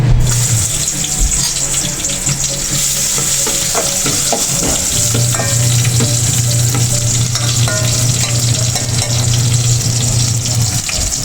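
Garlic sautés in a hot pan with a loud, steady sizzle throughout, punctuated by scraping stirs, with no talking.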